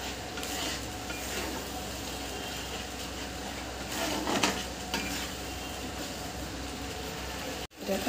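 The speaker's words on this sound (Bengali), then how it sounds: "এইগুলো বেশ খানিকক্ষণ ধরে আমি ভেজে নেব।" A paste of ground coriander, fennel and cumin with garam masala fries in a pan, giving a steady soft sizzle with occasional stirring scrapes and light clatter, continuous and close.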